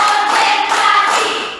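A roomful of students clap together in an ice-breaking clap game during an Islamic religious education lesson, producing a steady, loud wash of many hands with faint accents before it tapers off.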